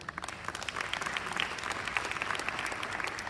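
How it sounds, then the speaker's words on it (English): A conference audience applauds the panelists of a forum on connectivity in the technological era, a dense, steady clapping from many hands that fills the room evenly from start to finish. "Please give a big round of applause to the panelists."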